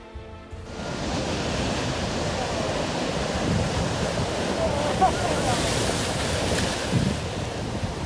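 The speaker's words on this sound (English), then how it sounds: "The sea at Porthleven, Cornwall is anything but gentle today." Rough surf crashes and roars continuously at Porthleven, Cornwall, a dense, loud wash of breaking waves with wind buffeting the microphone throughout.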